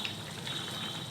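Water is poured into a pan of frying stuffed ivy gourds, making a brief, steady gushing splash close by.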